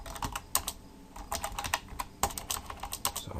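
Rapid, uneven typing on a computer keyboard, with close, crisp key clicks in quick bursts and brief pauses, heard alone without talk.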